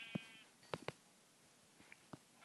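A few short Minecraft sheep bleats, spaced apart and fairly quiet, with small clicks and thumps between them.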